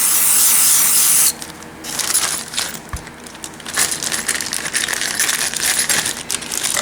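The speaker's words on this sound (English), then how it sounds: "I'm spraying DW40 in this bag" An aerosol can of WD-40 hisses loudly as it sprays into a plastic bag holding guitar parts, a sustained burst followed by crinkling plastic and small rattling handling noises close by.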